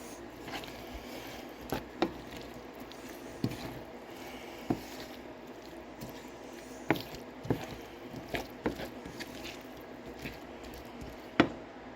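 Shrimp stir fry mixture stirred in a pan, giving soft wet squishing and scraping with scattered sharp clicks of the utensil against the pan, steady and close, with no talk.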